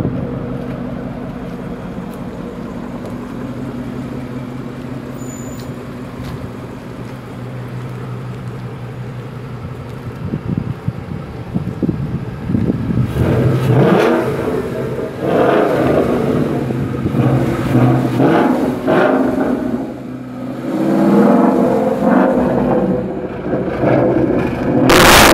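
A Ford Mustang GT with the 5.0 Coyote V8 idles with a steady rumble, then its loud aggressive exhaust revs repeatedly in rising, surging bursts, close by.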